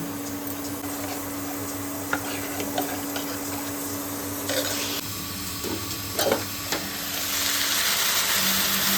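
Ennai kathirikai kuzhambu, with stuffed small brinjals and leftover spice powder, sizzles steadily in oil in a pan. The frying hiss is close and constant, with occasional light clinks and stirring scrapes.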